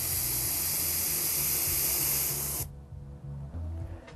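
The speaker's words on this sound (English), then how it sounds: "So when you do both, push down and pull back, you're going to get both air and paint." A dual-action airbrush sprays air and paint together, giving a loud, steady broadband hiss that runs without a break for about two and a half seconds, then cuts off sharply, leaving only a faint low hum.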